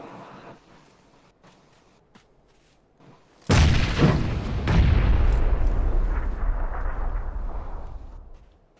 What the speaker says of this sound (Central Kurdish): گرینیت